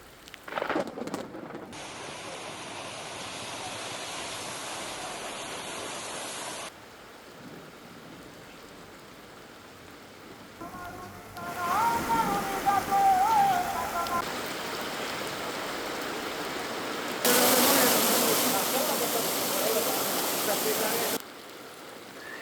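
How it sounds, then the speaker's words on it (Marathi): Heavy monsoon downpour in Kalyan-Dombivli, Maharashtra, roars as steady dense rain in a sequence of outdoor shots, with thunder rumbling and people talking in some stretches. "अचानक मुसळधार पावसानं नागरिकांची धावपळ उडाली."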